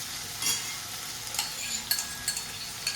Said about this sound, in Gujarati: ભીંડા થોડા ચડી ગયા છે. એ રીતે થોડાક એને ફ્રાય કરી લેવાના